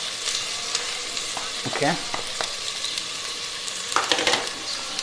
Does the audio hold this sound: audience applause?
no